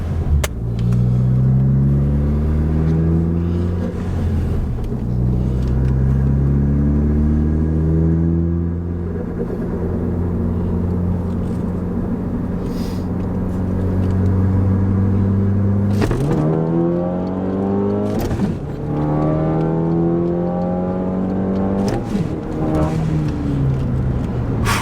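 A Ford Focus ST running E30 fuel pulls hard along a main road, its engine rising through the gears with a loud, close, droning rumble and two clear shift breaks before climbing again.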